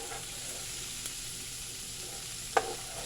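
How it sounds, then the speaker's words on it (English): A spoon stirs Bahamian pigeon peas soup in a pot, making a continuous gentle sizzle and bubbling with one sharp clink of the spoon against the pot near the end. "Just going to give this a nice stir and allow it to cook down for a few minutes."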